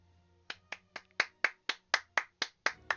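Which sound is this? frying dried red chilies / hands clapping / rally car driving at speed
hands clapping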